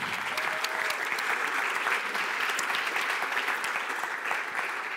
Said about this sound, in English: I think you all deserve an applause right now